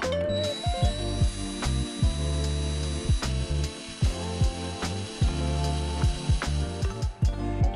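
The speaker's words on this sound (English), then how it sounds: "I'll mark and drill the locations of the holes for the pins" Drilling pin holes in a C-shaped letterpress part: a loud, steady machine whine runs throughout, broken by repeated sharp clunks and ratcheting knocks as the bit bites and the work shifts.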